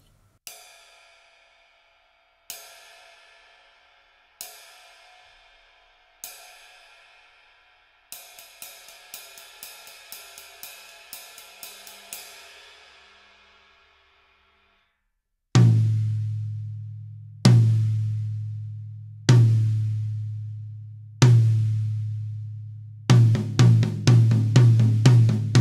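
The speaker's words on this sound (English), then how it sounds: "So this one's got an oval tip, and sounds like this." A drum kit struck with Promark 5A Natural oval-tip sticks: cymbal and ride hits ring out, with a run of quick ride strokes, then heavy booming drum hits and a fast closing fill, loud and close with no talking.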